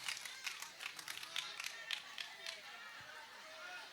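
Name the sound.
audience clapping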